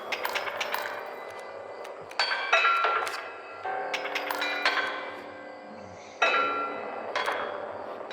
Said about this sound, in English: So that's all I can do. Ding the bell.